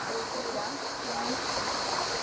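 Steady broadband rush of flowing river water in the evening near Laroque des Albères, France, continuous and fairly loud throughout, with a faint murmur of voices underneath.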